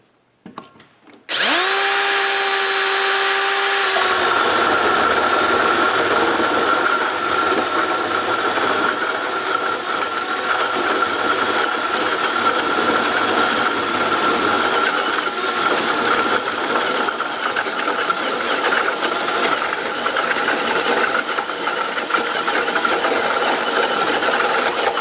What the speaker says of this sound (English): I'm going to put this 4 1/4 inch hole saw through this 2x6